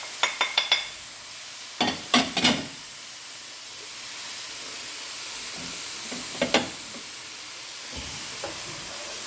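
Leek whites sauté in a pan with a soft, continuous hiss, broken by a few clicks and scrapes of a utensil stirring.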